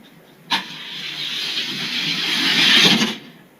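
A Datsun and a Honda launch side by side in a drag race. A sharp burst gives way to a building, hissing engine roar that swells for a few seconds and then cuts off.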